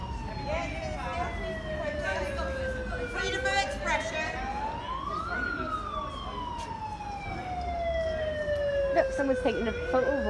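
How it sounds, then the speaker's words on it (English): Emergency vehicle siren wailing loudly in steady rising and falling sweeps during a street protest, with traffic noise and voices chattering underneath throughout. "It's not peaceful with our siren going"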